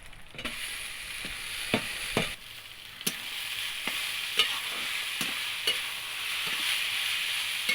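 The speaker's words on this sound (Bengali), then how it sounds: "ভালো করে একটু নেড়ে চেড়ে দিয়ে দেবো চাউমিনটা।" Chowmein noodles, boiled beforehand with salt, turmeric and a little oil, stir-fried in a pan: a steady sizzle runs throughout while a utensil scrapes and knocks against the pan in regular strokes, fairly close, with no talking.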